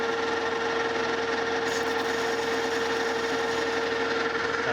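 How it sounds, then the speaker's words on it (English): A cutter chamfers the outside edges of a metal V-belt pulley for a DoAll 26-inch vertical band saw, giving a steady, even machining whine with a sharp tonal hum and no talk. "Change out cutters here. I'm just gonna chamfer these outside edges,"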